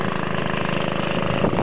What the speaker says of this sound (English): We put an engine on the back.